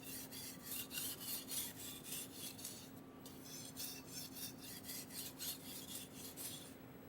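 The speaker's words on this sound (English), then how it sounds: "Use the same technique to create the sharpest edge on the knife's backside" Knife blade drawn repeatedly across a whetstone, a steady rhythmic rasping of strokes, soft and close, with no talking.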